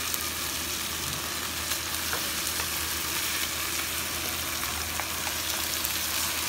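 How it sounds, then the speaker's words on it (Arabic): Tomatoes sautéing in a pan, a constant soft sizzle under a low steady background hum, with faint stirring scrapes and no speech. "ونشوحهم برده مع بعض"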